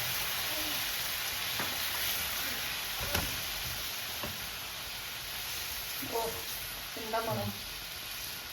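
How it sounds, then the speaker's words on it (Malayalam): Milk being poured over butter buns in a hot pan gives a steady, moderately loud sizzle and hiss throughout, broken by a few brief clinks and scrapes, with no voices. "മിൽക്ക് അല്ലെങ്കിൽ പാൽ. ഇങ്ങനെ ഇതിന്റെ മുകളിലേക്ക് നല്ല ഒഴിച്ചു കൊടുക്കാം."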